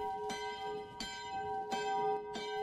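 A church bell tolls four times at an even pace, each ring bright and sustained, blending into the next with a long metallic hum.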